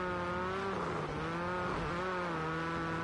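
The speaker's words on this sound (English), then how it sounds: "that Honda revving well, so he's going to be happy taking a heat win here" A Honda rally car's engine in the Rally Fighters racing video game revs loud and steady, with a strong harmonic drone that dips briefly and then climbs back up, alone and with no voices.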